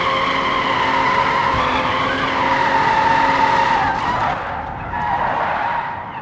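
Simulated car engine revving hard in BeamNG, with sustained tire squeal and skidding, loud and continuous before easing off near the end.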